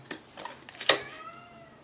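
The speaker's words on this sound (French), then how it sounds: "Orion, tu miaules particulièrement bizarrement ce soir" A domestic cat meows oddly indoors: a few short, strained calls with one louder, warbling meow near the middle, alone and fairly close.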